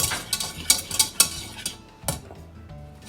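Ginger sauce for baked orange chicken cooking in a pan, a close bubbling sizzle with a spoon or utensil clinking and stirring against the pan in quick irregular taps.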